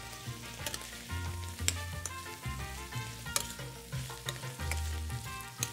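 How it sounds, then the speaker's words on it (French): Bread pieces fry in bubbling butter in a saucepan, giving a close, steady sizzle with crisp crackles and the occasional clink of stirring, and no voices. "notre beurre commence à frémir. À ce moment, on va rajouter nos morceaux de pain et on va venir les enrober de beurre"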